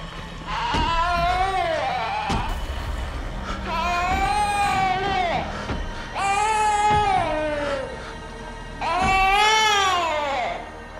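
A baby wails from above in the horror game Resident Evil Village, four long rising-and-falling cries separated by short gasping pauses, loud and close.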